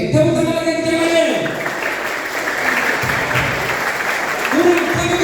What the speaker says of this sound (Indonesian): Kalau dingin berarti tepuk tangan lagi kencang.